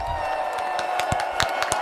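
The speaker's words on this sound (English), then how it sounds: "Let's give them a hand clap." A small studio audience and hosts clapping for guests at the end of a talk show, a short run of sharp, fairly close hand claps over a steady hum.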